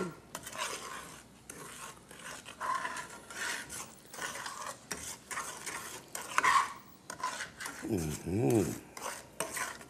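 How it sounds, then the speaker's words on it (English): A spoon stirs flour into a pot of turtle stew, with repeated scraping and rubbing strokes against the metal and a soft sizzle throughout, close and moderately loud, with a brief murmur of a voice. "I'll spread it around in there and stir it in."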